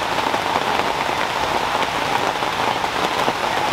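Heavy rain falls steadily and loudly, a dense, continuous hiss of drops hitting surfaces with no voices.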